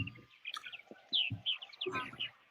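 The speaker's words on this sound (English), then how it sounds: "Is that real bird sound? Yes, that's real." Real birds chirp and tweet around bird feeders at EPCOT, Walt Disney World, in a run of quick, fairly faint high calls, with a few soft low thumps and background sounds beneath them and no talking.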